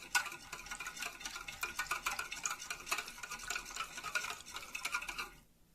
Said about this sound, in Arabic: هضيف الخميرة والسكر وهضربهم مع بعض كويس جدا لحد لما يدوب السكر والخميرة